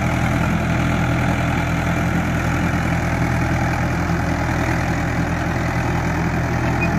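A steady, loud tractor engine idles continuously with a deep low rumble and faint knocking texture, running without pause, in a muddy village field.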